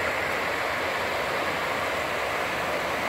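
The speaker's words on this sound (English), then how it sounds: "little whitewater rapids there. Nice little creek." Small creek's whitewater rapids near the Switzer Covered Bridge in Franklin County, Kentucky: a steady, full rushing and splashing of water, close and constant, with no talking.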